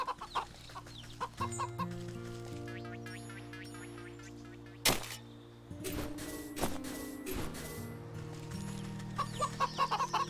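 Baby chickens cluck in a farm scene of the video game Wytchwood, soft repeated game clucks over a steady musical background, with one sharp louder effect near the middle.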